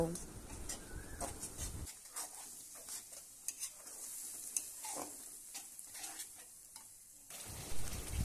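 Kofta curry masala being sautéed with sour curd in a pan, a soft scraping stir with faint sizzling running steadily at close range, with a voice talking at the start and end.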